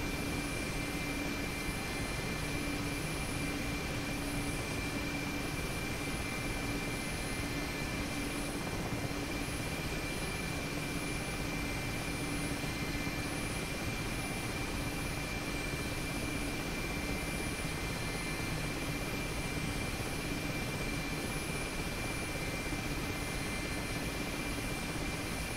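An Mi-8 helicopter in the DCS flight simulator, heard from the cockpit while descending. A steady, moderately loud turbine whine and rotor drone drones on without a break, with faint tonal hums and no speech.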